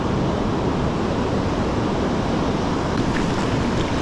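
Ocean surf washes steadily along a Northern California beach where someone wades out to fish for surf perch, a dense, continuous roar of waves and wind noise with no talk.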